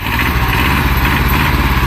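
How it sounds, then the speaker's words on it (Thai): A used Kubota L1500 tractor's engine runs close and loud with a steady, throbbing low rumble and rhythmic chugging, heard alone for a couple of seconds. "รถสตาร์ทง่ายนะ"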